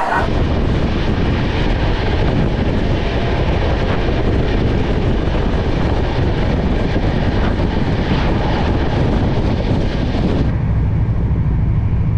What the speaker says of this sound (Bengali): আপাতত ট্রেনটা ছাড়ুক